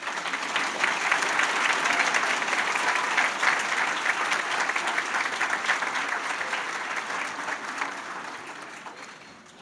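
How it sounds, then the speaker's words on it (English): A crowd applauds at an adult high school and high school equivalency program event, dense steady clapping from a sizable audience that holds for several seconds and then gradually tapers off. "let's give her another round of applause"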